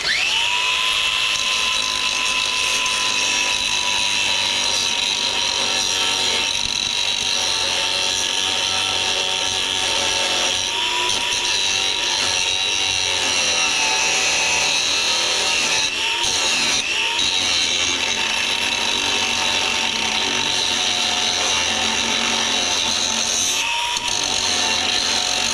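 A power grinder runs continuously against a riding mower part, cutting it down at an angle, with a steady high-pitched whine that holds loud and close throughout, with brief dips as pressure shifts.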